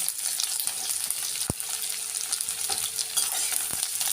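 Cumin, mustard seeds, garlic and onion sizzling in hot oil, a dense, steady hiss up close with occasional stirring scrapes and a couple of sharp taps of a spoon against the pan, no voices.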